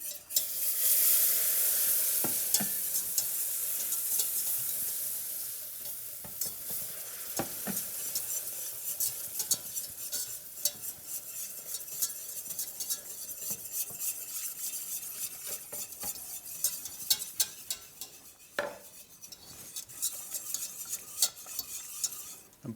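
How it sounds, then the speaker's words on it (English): A whisk scrapes and clinks steadily in a pan as beef stock is worked into a roux for sauce espagnole, with faint sizzling beneath and sharper metallic taps now and then. "The important thing is to whisk the whole time so you don't get any lumps."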